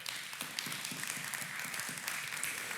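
A faint, distant round of audience clapping at a religious teaching gathering, a soft continuous patter of many hands without speech.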